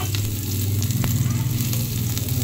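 Garlic fries in hot oil in a pan, a steady close sizzle and crackle with a few sharp pops, loud and continuous throughout.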